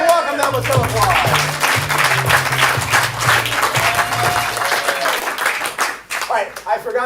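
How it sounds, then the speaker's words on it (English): Audience at a ComedySportz improv comedy show bursts into loud, sustained applause and clapping with a few cheers, fading near the end. "And welcome them with some applause."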